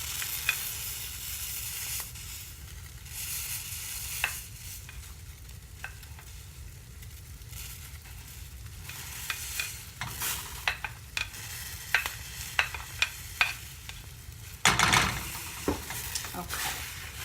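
Peppers, onion and garlic sizzle in a pan with a soft, steady frying hiss. Scattered clicks and scrapes of stirring break through, with brief talk underneath.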